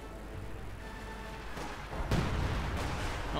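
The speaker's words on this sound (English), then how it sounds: "Artillery barrage going in." Artillery barrage in Company of Heroes 2, a 1v1 match between Soviet and OKW forces: distant booms and thuds swell and layer into a rumbling roll, with two sharper impacts near the end.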